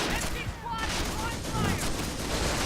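A quad anti-aircraft gun firing in the Company of Heroes Europe at War mod, a steady dense rattle of rapid gunfire blending with game battle noise, with faint voice-like sounds mixed in.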